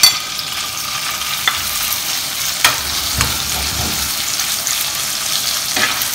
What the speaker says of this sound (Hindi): इसको थोड़ा सा फ्राई करना है, थोड़ा सा सौते करना है, इसका थोड़ा सा कलर चेंज करना है